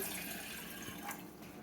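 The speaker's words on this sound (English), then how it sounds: "first I'm going to pour the water into the pan" Water poured into a cooking pan while making Indian milk tea with sugar and cloves, a soft, steady splash and trickle heard close up, alone and without talk.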